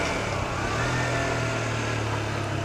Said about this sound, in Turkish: Bu arada mesela vites düşürürken gaz veriyorum.